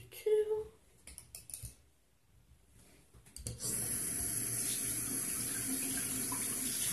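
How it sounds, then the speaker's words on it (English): A tap runs into a sink during cleanup after making slime, a steady, close, even rush of water that starts a few seconds in after scattered clicks and handling noises, with a person speaking at the start. "we're just washing up my sink right now because I made a little bit of a mess"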